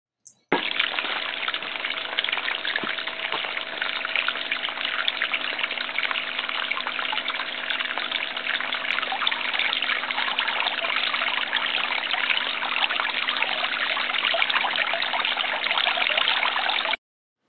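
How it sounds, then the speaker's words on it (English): A small pump in a filled fish tank pushes water out onto sand beds in a simple aquaponics demo setup. After a brief click at startup, a steady, close trickling gush runs unbroken throughout. "The fish tank was filled with water and we're ready to start pumping."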